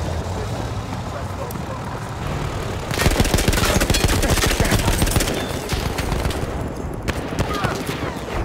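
Dense gunfire and battlefield noise in the Battlefield 1 beta on the Sinai Desert Conquest map, with a steady roar of shots building louder after a few seconds, vehicle rumble underneath and a voice talking over it.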